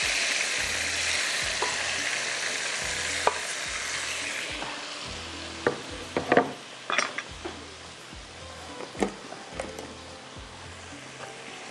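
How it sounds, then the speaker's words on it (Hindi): Cumin and garlic fry in a pan with a steady close sizzle, along with occasional stirring scrapes and clinks of a utensil against the pan. "ये लहसुन जैसे ही देखिए ये ज़ीरा फ्राई हुआ"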